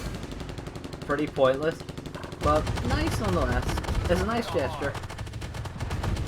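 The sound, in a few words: coaxial machine gun firing in video game Armored Warfare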